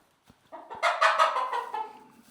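Backyard chickens cluck close by in a short burst of several quick, rising clucks that taper off, with no talk over them.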